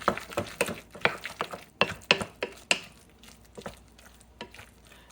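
Crab smashburger mixture being stirred with mayonnaise in a bowl: a run of quick, close scraping and clicking strokes, irregular and fairly faint, easing off toward the end, with no talking.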